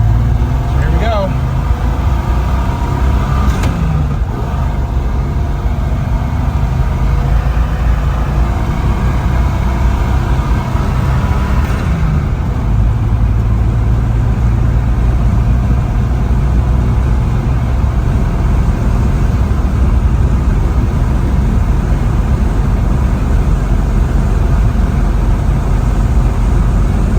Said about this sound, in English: Down the road. Drives really nice. Steers good.